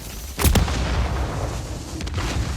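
A grenade goes off in Call of Duty Warzone as a sharp, close blast, followed by a rumbling tail and a fainter second report.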